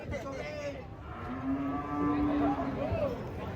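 A pink, hairless cow just off a truck gives a drawn-out low moo that rises and bends, close by and fairly loud, with some background voices and outdoor noise.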